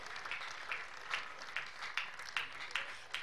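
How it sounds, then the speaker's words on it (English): A church congregation claps together in a steady rhythmic pattern of bursts, moderately distant and fairly faint, with no talk over it. "A case of 2 years stroke instantly healed. Clap for Jesus."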